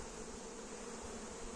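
Honeybees buzz at an open beehive, giving a faint, steady drone through the whole short moment.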